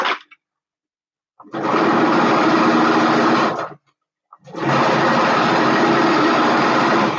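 A sewing machine stitches the final seam of a baby onesie in two loud, steady runs of about two seconds each, separated by a short pause, with no talking.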